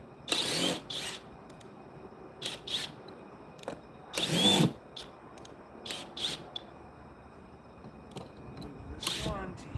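A power drill drives screws into wood during a home renovation. Several short whirring bursts are heard, one longer than the rest, separated by quiet pauses and occasional talk.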